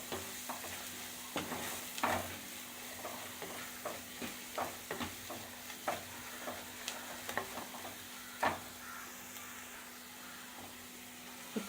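Spice powders fry in a pan over a low flame for a Kerala-style fish curry, a soft continuous sizzle broken by frequent spoon scrapes and stirring taps, fairly quiet and close.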